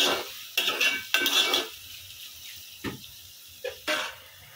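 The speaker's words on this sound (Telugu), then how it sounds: "చూడండి ఫ్రెండ్స్, ఉల్లిపాయలు చక్కగా ఫ్రై అవుతున్నాయి." Onions frying in a pan for chicken curry, with bursts of stirring and utensil scraping against the pan over a faint sizzle, several short clattering strokes close by.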